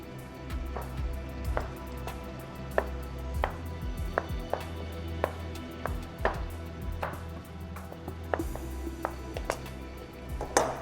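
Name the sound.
knife chopping mushrooms into quarters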